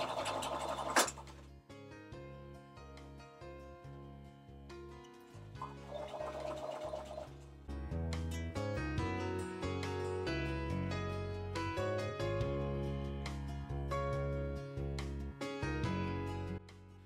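Sewing machine stitching down fabric gathers on a ball gown skirt, a steady mechanical run with rhythmic tonal whirring that starts, pauses briefly, then resumes continuously and fairly close.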